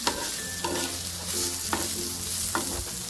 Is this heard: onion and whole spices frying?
yes